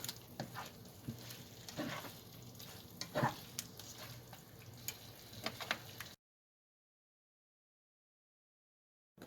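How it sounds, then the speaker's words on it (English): Paprika ravioli tossed and stirred in a hot frying pan, a steady sizzle with scattered clicks and scrapes of the utensil against the pan, close and moderately quiet, ending abruptly in silence. "keep flipping the pasta moving it around so the flavor goes everywhere"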